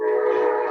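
Short blast of a passing train's horn, a loud sustained tonal blare lasting under a second.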